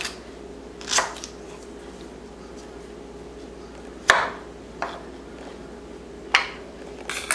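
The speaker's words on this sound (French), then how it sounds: "On a commencé par gingembre là, on a découpé gingembre nous yo." A knife chops ginger on a cutting board in a home kitchen while beef and broccoli is being prepared, giving sharp isolated thwacks spaced a second or more apart against a quiet room hum.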